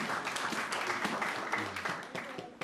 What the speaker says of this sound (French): Est-ce qu'on peut applaudir notre Wittmann?